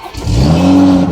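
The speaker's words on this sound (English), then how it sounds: "So now we know our car is starting" A Toyota Supra engine cranks and catches, then rises into a loud, close-up rev that holds steady for a moment.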